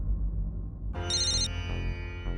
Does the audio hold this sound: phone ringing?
yes